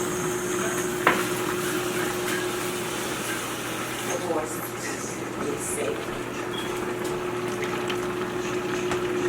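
Water goes into a pan holding hot sauce and vinegar, making a continuous soft sizzling, bubbling hiss with a faint steady hum under it and a few small clinks, heard close at moderate volume.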